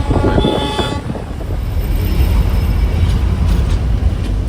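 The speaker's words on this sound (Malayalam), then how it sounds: "താഴേക്ക് പോകുന്ന ടോയ് ട്രെയിൻ ഇതാ പോകുന്നുണ്ട്" The Darjeeling toy train rumbles loudly past close by, a steady heavy roar of wheels and carriages, with a brief high tone near the start.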